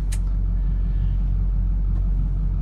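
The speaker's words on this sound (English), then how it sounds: "A lot of traffic today." Road traffic rolls past in a loud, continuous low rumble of cars and heavy vehicles, with a faint brief hiss of air brakes near the start.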